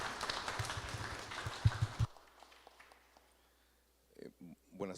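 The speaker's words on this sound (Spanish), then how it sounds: "Vamos a recibirle con unas palmas muy afectuosas" Audience applause welcoming a lecturer at an academic chair session, dense clapping for about two seconds that stops abruptly, followed by near silence and then a voice beginning to speak.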